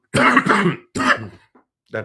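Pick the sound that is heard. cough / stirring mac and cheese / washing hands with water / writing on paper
cough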